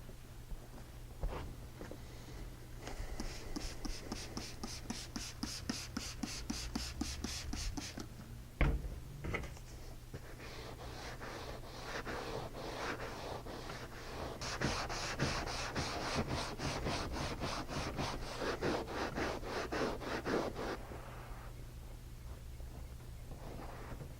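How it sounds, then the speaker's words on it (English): A scuff pad scrubs a cracked leather car seat in quick, repeated back-and-forth strokes, faint and close, with a short pause partway through. "The scuff pad can help separate years of dirt and oils from the leather."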